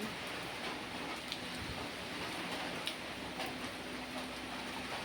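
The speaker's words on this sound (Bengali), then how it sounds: "আর বৃষ্টি পড়াও শুরু হয়ে গেছে" Steady patter of rain falling, a continuous wash of drops with occasional sharper ticks, no voices.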